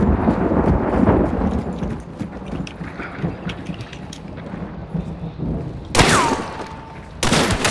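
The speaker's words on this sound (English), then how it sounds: "I heard more gunshots, kind of west." Gunfire in the video game Hunt: Showdown crackles in scattered bursts, some distant and some closer, mixed with background game noise and a couple of sharp louder effects.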